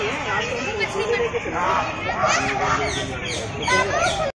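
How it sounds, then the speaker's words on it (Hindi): Bird calls chirp through an outdoor hubbub of people chatting and children's voices in Lodhi Garden, Delhi, the birds fairly close but partly masked by the crowd. "ये आप साउंड सुन सकते हैं इन पक्षियों"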